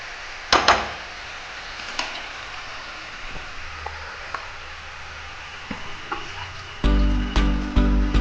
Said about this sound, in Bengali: মশলা দিয়ে শাকটা ভালোভাবে কষিয়ে নেবো।